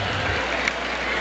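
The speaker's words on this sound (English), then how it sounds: "Bububuhay na ang USEP crowd." A USEP crowd applauds at a basketball game, a dense and steady wash of clapping from a large audience that holds through the whole short moment.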